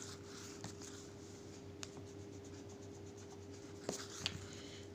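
Marker or chalk strokes scratch across a classroom board during an English grammar lesson on adjectives, a soft continuous scribble with a few sharper taps, quiet against a steady electrical hum, with no talking.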